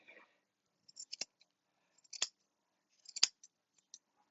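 Scissors snip through a standard poodle puppy's fur in three crisp, close cuts about a second apart, each a sharp metallic snip, with faint clicks between.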